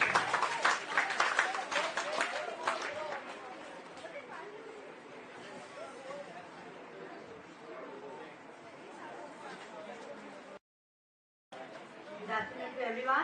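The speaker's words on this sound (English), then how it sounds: "Let's welcome her with a huge round of applause," An audience claps and cheers to welcome a guest lecturer at an outreach event on India's Aditya L1 solar mission, a loud burst at the start fading into a lighter patter and crowd chatter, with a brief gap before more noise.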